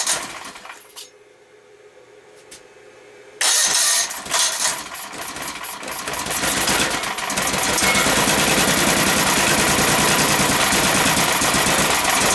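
A golf cart engine cranks over and starts, beginning with a few quiet clicks and a faint hum, then catching abruptly and settling into a loud, steady idle that grows slightly stronger as it runs on.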